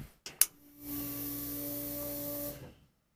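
A couple of sharp clicks, then the electric fuel pump of an LS-swapped 1965 Chevy C-10 truck starts up with a steady whine and hiss, running evenly for about two seconds before cutting off.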